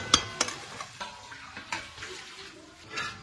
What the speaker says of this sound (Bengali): তো দেখো আমি ঢাকা দিয়ে দিয়ে চিকেনটাকে ভালো করে কষিয়ে নিচ্ছি।